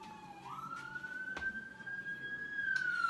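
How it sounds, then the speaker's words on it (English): An ambulance siren passes outside an open patio door, a single rising and holding wail heard at a distance over low background noise, with a couple of faint thumps. "these ambulances have been passing by for the last 30 minutes"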